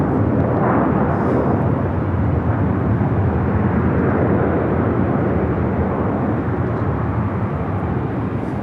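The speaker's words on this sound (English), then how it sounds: "Green Air Flight 18 heading back to Seoul on the 747-8 Intercontinental" A Boeing 747-8 Intercontinental airliner at LAX, its broad engine roar steady and loud for the whole stretch, a dense rumbling wash without pauses or voices.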